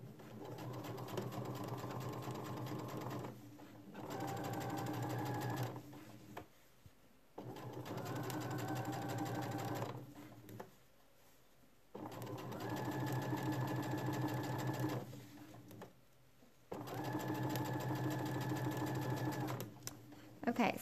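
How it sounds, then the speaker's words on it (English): Sewing machine stitching bias tape onto shorts, four long steady runs of rapid needle hum a few seconds each, separated by short quiet pauses. "I'm gonna go ahead and finish that and then I'll come back to you"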